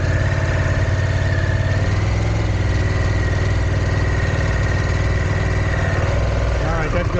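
A Harley-Davidson motorcycle engine idles with a steady, loud, low rumble and even mechanical pulsing that holds throughout. The sound shifts slightly near the end.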